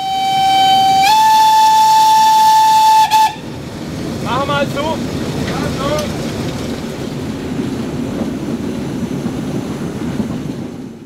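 A class 52 steam locomotive sounds a long, loud steam whistle, then runs on through a valley with steady rumbling and chuffing; a voice speaks briefly.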